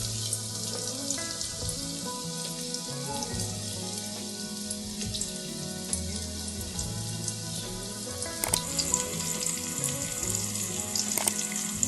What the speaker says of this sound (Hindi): थोड़ा सा प्याज को ब्राउन कर लेंगे, लाइट ब्राउन।